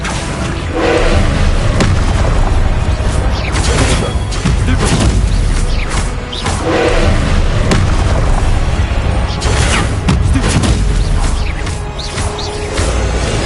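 Loud, continuous spell-combat effects from the Hogwarts Legacy video game, with repeated booms, thuds, crashes and whooshes of magic casting piling up over thirteen seconds, and brief voices calling out under the din.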